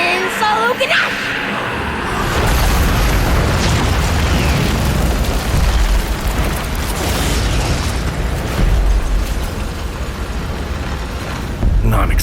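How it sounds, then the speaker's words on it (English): A long roaring explosion in an audio drama, a dense rumbling blast that swells and churns for several seconds with crackling debris, loud and sustained before cutting off. "an explosion of ethereal dust erupting from the inside out"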